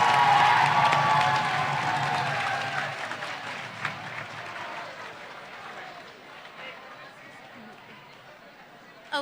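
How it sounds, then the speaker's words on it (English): Students at a sophomore academic awards ceremony applaud classmates for perfect attendance, a sustained crowd clapping with some cheering and murmured chatter that slowly tapers off over nine seconds. "one more round of applause for your perfect attendance"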